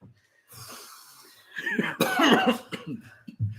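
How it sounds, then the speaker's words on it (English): A person coughs in a few harsh bursts, close and fairly loud, with breathy throat sounds between them and a last short cough at the end. "I gotta stop coughing to get to the hour mark"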